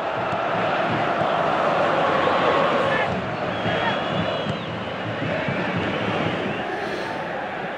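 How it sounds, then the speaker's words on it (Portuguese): A packed stadium crowd roars and chants without pause in a PS3 football match between São Paulo and Flamengo, a dense, steady wall of voices with no break. "A torcida cantando"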